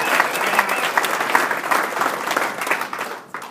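Applause from an audience at a wedding celebration, a steady dense wash of clapping hands lasting a few seconds before tapering off at the end.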